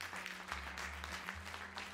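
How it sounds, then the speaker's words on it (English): A summit audience claps steadily for a speaker at a Day of the Seafarer event, a soft, even patter heard at a distance over a low hum. "A round of applause, please."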